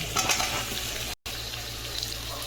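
Cut potato, eggplant, beans and pumpkin sizzle steadily in oil in a pan with ginger-garlic paste, a continuous close frying hiss with a brief dropout partway through.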